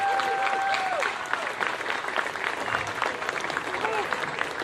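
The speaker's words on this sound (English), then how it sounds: "So I think we should give everybody a big round of applause." Outdoor rally audience at a peace and freedom event giving sustained applause, a dense wash of clapping from a sizable crowd lasting the whole stretch, with faint voices and a whistle-like tone mixed in early on.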